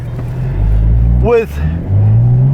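Engine of an FPM-tuned 1069 hp Porsche Turbo S heard from inside the cabin, a steady loud drone with a brief rising rev sweep midway, while a voice speaks over it.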